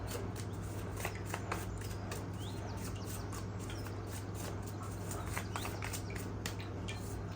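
A tarot deck is shuffled and a card drawn, giving soft, quick papery riffles and flicks over a steady low background hum, with no one speaking.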